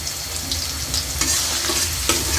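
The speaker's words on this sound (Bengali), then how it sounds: "এখন আলুগুলো ভেজে নেব।" Turmeric-coated potatoes fry in a pan with a loud, continuous sizzle, while a utensil stirs and scrapes through them in short bursts.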